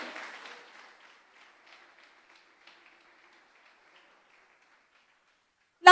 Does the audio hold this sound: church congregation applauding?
yes